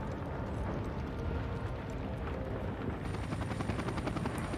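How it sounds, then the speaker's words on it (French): A helicopter from the video game Max Payne 3 drones steadily with a loud, continuous rotor roar and whine that fills the whole stretch, with no voices. "Bien sûr qu'il fonctionne l'hélico."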